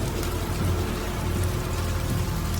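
A dense, constant downpour of storm rain drums steadily on surfaces, with a low rumbling undertone running beneath, all of it loud and unbroken, with no voices.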